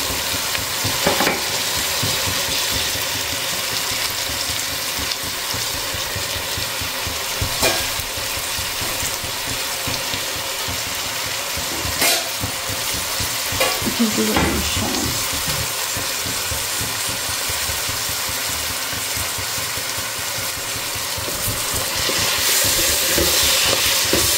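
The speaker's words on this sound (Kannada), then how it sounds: "ಇದನ್ನು ನಾವು ಚೆನ್ನಾಗಿ ಫ್ರೈ ಮಾಡ್ಕೊಬೇಕು, ಇಲ್ಲಾಂದರೆ ಕಸರೆ ಹೋಗಲ್ಲ" Fenugreek greens and tomato fry in a pan for methi dal, giving a loud, steady sizzle throughout with occasional stirring scrapes and no voices.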